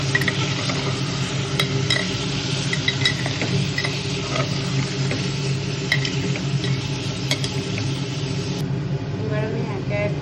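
Chicken pieces sizzle and fry in a small pressure-cooker pot while a utensil stirs and scrapes, a dense, steady crackle with occasional metallic clinks, and someone talks over it.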